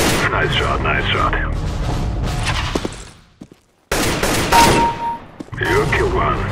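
Gunfire in the shooter game CS:GO, bursts of shots and booms running most of the way with a brief silent gap near the middle, while players' voices talk over it.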